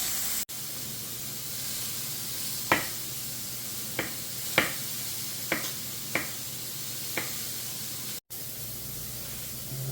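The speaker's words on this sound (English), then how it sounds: "The pork's coming along nicely, browning up." Pork pieces browning in a pan give a soft, steady hiss of sizzling, with a few sharp clicks and taps of a utensil scattered throughout, fairly quiet and close.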